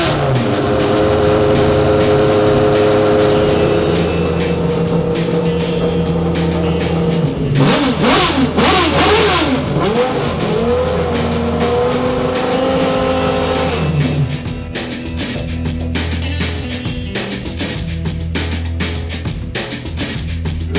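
A Le Mans race car engine at Goodwood roars loud and close, revving hard with rising and falling pitch through the middle, then settling into a steady high drone.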